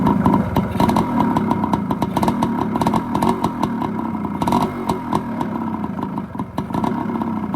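A kick-started Yamaha RT 180 motorcycle runs after carburetor work, its single-cylinder engine putting out a loud, steady, close idle with rapid clattering pulses and slight revving.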